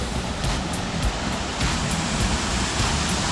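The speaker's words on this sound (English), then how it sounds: "we have also a little waterfall" A small waterfall on a hiking trail near Jardín rushes in a loud, steady, close-up roar of splashing water with no break.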